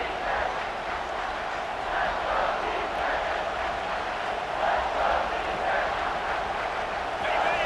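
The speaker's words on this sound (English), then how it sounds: "this defense feeling energy from the crowd" A stadium crowd in the EA Sports College Football 26 video game roars continuously, a dense distant wash of cheering and chanting that swells and dips slightly throughout.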